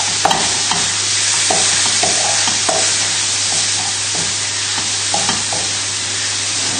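Sliced mushrooms and bacon sizzling steadily in a hot pan, with a spoon scraping and stirring at intervals, loud and close, no talk.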